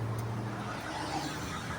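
A car drives along a road, giving a steady low rumble of engine and tyre noise heard from inside or nearby, with no speech.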